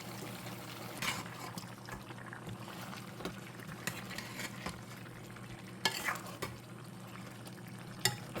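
Chicken being stirred in a pan over medium heat for chicken kaju masala, a low steady sizzle broken by occasional scraping strokes and soft knocks of the spoon, quiet and close with no talking.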